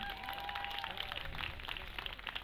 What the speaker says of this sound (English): Could you please have a round of applause for Soha Ali Khan, ladies and gentlemen?